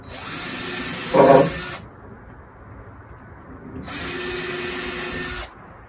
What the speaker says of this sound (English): So we drill in clearance holes down through the rail.